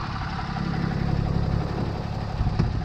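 A Ram truck engine idles steadily after a cold auto start, a low, even rumble heard up close without any talking.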